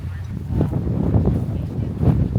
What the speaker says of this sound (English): It's definitely a windy day here today.